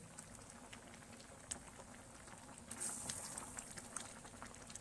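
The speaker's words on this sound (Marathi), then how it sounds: "आता रश्याला छान अशी उकळी आलेली आहे" A pot of curry gravy bubbles at a quiet, steady boil, with faint continuous popping and occasional small crackles close by.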